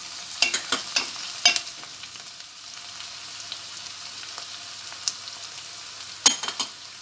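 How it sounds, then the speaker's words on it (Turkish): Tomato paste and pepper paste fry with onions for a chicken and vegetable bulgur pilaf, giving a faint steady sizzle broken by a few sharp spoon scrapes against the pan near the start and again toward the end. "Bunları da kokusu çıkıncaya kadar salçaları kavuralım."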